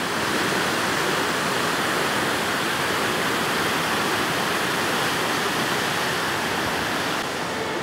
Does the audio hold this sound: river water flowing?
yes